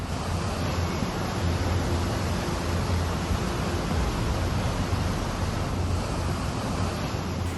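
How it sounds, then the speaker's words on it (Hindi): A swollen mountain stream in flood after heavy rain gives a constant, loud rushing roar of churning water, unbroken throughout with no voices. "और नीचे नाला उफान पर है"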